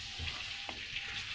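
Chicken cooking in a kadhai on a stove gives a steady, soft frying hiss throughout, with a brief scrape or stir partway through.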